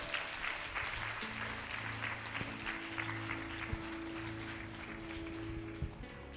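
A church congregation applauds steadily for several seconds to acclaim the Holy Spirit, a dense wash of clapping with faint voices mixed in.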